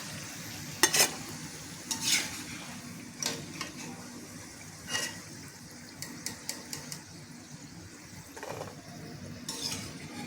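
Shankarpali dough pieces fry in hot oil, giving a soft, quiet sizzle broken by scattered clinks and stirring knocks of a utensil, with no voices.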